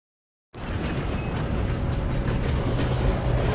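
A train in a video game rolls steadily along its rails, a loud, continuous rumble and rattle that starts abruptly and carries on unbroken, with no voices.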